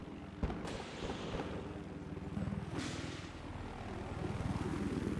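A helicopter in Battlefield 4, during an 8v8 Conquest league match, gives a loud, steady rotor and engine drone that runs throughout, with a few sharp bursts cutting through it.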